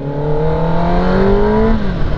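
Kawasaki ZX-10R four-cylinder motorcycle accelerating, a loud, close engine whine with tones climbing steadily through the revs, then a brief drop near the end.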